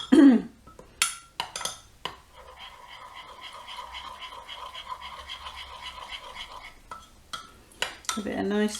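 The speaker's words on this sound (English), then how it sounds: "keep mixing it in" Spoon stirring a wild orange chocolate mixture in a bowl, a steady scraping and clinking that runs for several seconds between brief knocks and short bursts of nearby voice.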